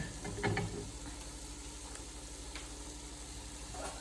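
Meat cooking in a pan for a white pasta sauce, a steady low sizzle and frying crackle running throughout, with a few brief stirring scrapes near the start.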